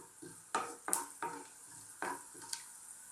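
Whole spices frying in oil in a pan for aloo keema, a quiet background sizzle broken by several stirring scrapes and light knocks against the pan.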